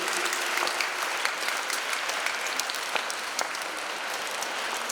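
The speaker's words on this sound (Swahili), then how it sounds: "Makofi kwa Lewis." Congregation clapping during a Catholic Mass in the Ngong Deanery, steady sustained applause filling the space from start to finish with no talk over it.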